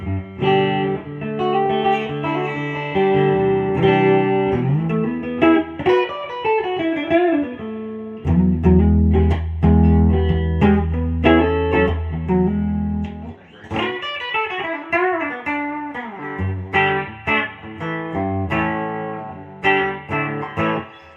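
A clean Fender electric guitar on the neck pickup, played through a Fender Blues Deluxe Reissue amp, with a warm, round tone plays melodic phrases and sustained chords, with pauses between passages and no talking.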